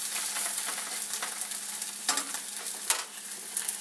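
A wild onion frittata mixture sizzles in a hot pan with a steady, close crackle, while a few soft scrapes and stirs spread it across the pan.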